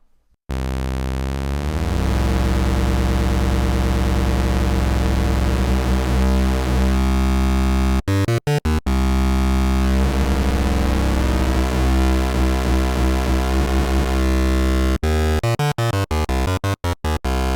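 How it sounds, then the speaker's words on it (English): Harsh, metallic ring-modulated synthesizer tones from a Behringer CAT or Korg ARP Odyssey drone continuously with dense clashing overtones, briefly cutting out in stuttering bursts before resuming. "So you can get those nice harsh tones that you can get with the ring mod."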